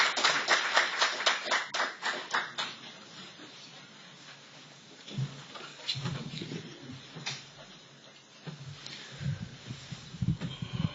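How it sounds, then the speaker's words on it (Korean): Applause at a healthcare forum in Jeju as a speaker from a health industry agency is welcomed: dense clapping for about three seconds, then scattered claps and small knocks and rustles in a room. "큰 박수로 맞아주시기 바랍니다"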